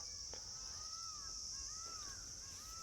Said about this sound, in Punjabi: ਇੱਥੇ ਆਲੇ ਦੁਆਲੇ ਪੰਛੀਆਂ ਦੀਆਂ ਆਵਾਜ਼ਾਂ ਸੁਣਨ ਨੂੰ ਮਿਲਦੀਆਂ ਪਈਆਂ ਆ